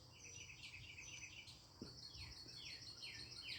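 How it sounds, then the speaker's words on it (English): A starling sings from a backyard tree, faint rapid chirps and whistled phrases repeating over other distant birds and insects. "There goes a starling"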